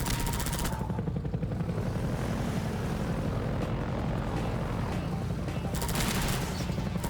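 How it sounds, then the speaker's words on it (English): Continuous loud gunfire and combat noise from the video game Half-Life 2, a dense unbroken stream of shots and roaring action with no talking. "And I can just keep shooting at this guy."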